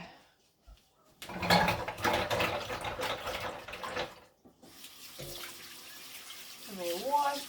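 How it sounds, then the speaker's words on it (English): Tap water runs into a kitchen sink while someone washes pasta dough off their hands, a steady splashing rush that stops briefly and then resumes, with a faint voice-like warble near the end. "Let me wash my hands."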